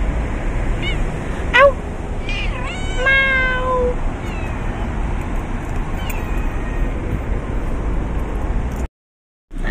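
A cat lying on a car meows several times, a short cry near the start, then a longer rising-falling meow around three seconds and a fainter one later, over steady outdoor background noise.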